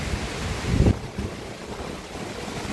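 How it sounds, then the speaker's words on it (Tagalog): Rushing surf and wind noise buffeting the microphone at the seashore during a typhoon at low tide, with a louder gust or wave surge early on before settling into a steady roar. "Dito tayo sa may tabing dagat."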